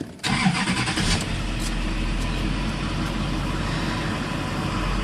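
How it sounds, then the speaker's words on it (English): A Duramax LLY diesel truck engine with a fuel pressure regulator problem cranks and catches, then settles into a steady rumbling idle nearby, with a few faint clicks over the drone. "I'm going to start it up here so you can see."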